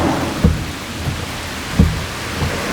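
Rain falling at a bus stop with thunder: a steady hiss of rainfall with two low, thumping rumbles rising briefly out of it, loud and continuous.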